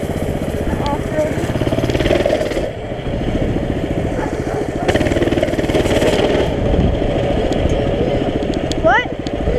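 A mini bike engine drones steadily through repeated laps, its motor note rising and falling with throttle as the rider circles an off-road track, fairly close and loud, with voices talking over it.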